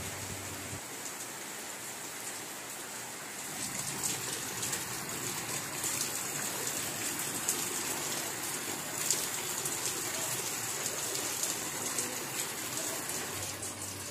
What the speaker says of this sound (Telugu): చూద్దాం ఇంకా వర్షం ఎంతసేపు వస్తుందో